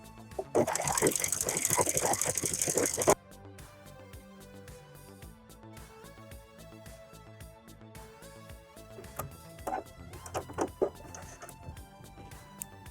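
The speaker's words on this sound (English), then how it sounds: "Now I have the embroidery thread in the serger, and we're going to test it out with the lettuce hem." A serger stitches a lettuce hem with embroidery thread, opening with a loud, fast, rattling run of about three seconds, then dropping to a softer mechanical whirr with a few short louder bursts later.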